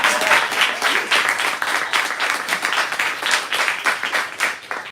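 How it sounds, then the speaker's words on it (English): An audience at a community lab event claps for Serena, a lively burst of applause from a sizable crowd with quick, uneven pulses of clapping that swell and ease. "And also, you must clap for Serena's suit."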